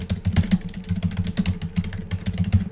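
Rapid keystrokes clatter on a computer keyboard as a job search for entry-level accounting in Seattle is typed, close and steady in irregular bursts with no voices.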